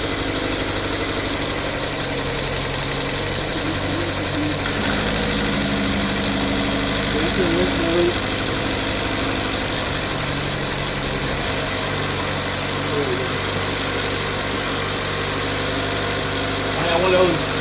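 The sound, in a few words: 2013 Dodge Dart engine idling after first startup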